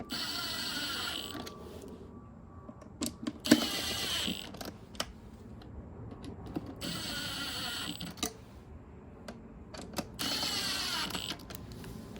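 Small fasteners on a 2015 Mercedes S63 air filter housing being tightened by hand, giving bursts of quick ratcheting clicks separated by quieter pauses, close by with no talk.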